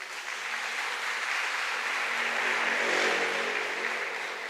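A church congregation applauds together during a sermon in a broad, sustained wash of clapping that swells slightly toward the middle and fades a little at the end, with no speech on top.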